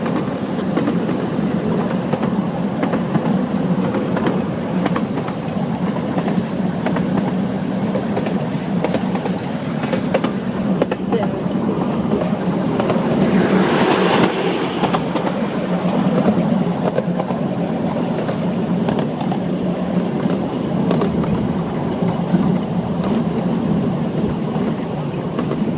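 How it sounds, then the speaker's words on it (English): Train ride in the Webkinz video game: a steady rumbling run of rail noise with faint clickety-clack and occasional squeal, continuous throughout with no talking. "You just found a train"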